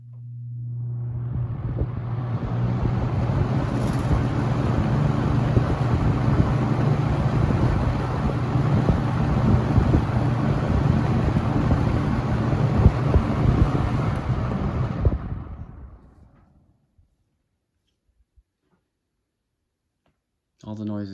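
Vintage 1989 Toastmaster 4435C electric fan running on high, a loud steady whooshing airflow with a low motor hum and a rattling grill, which cuts off sharply near the end and leaves near silence.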